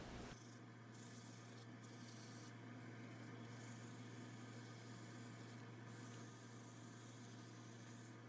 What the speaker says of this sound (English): To start the sanding process, I sanded from 120 to 400 grit